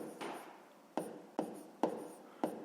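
A pen scratches close by on paper as numbers are written, making a quiet rhythm of several short strokes, each with a sharp start and a fading tail.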